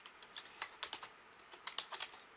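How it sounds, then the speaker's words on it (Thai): Thai text typed on a computer keyboard, quick irregular clusters of crisp key clicks at close range in a quiet room. "ตอนนี้ลองพิมพ์ภาษาไทยดู"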